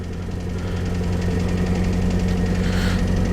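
A Mk1 Ford Zephyr six-cylinder classic car engine idles steadily up close, a low even rumble with a faint ticking pulse running through it and no voices.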